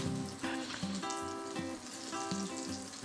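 Steady sizzling of Hakka Chinese foo young frying in a hot pan, with crackles and small pops spitting through the continuous hiss.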